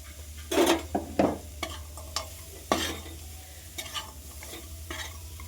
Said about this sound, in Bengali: খেজুরের গুড় দিয়ে নারকেলটা ভালোভাবে ছাই মেরে নেব